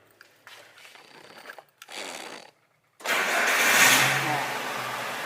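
A fuel-injected light vehicle engine is started: short cranking bursts with a pause, then the engine catches and runs loud and steady close by.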